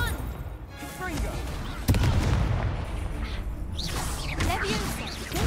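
In Hogwarts Legacy, the Confringo blasting spell goes off in loud booming blasts with a sharp crack, sitting among dense game effects and whooshes while a player's voice speaks over them.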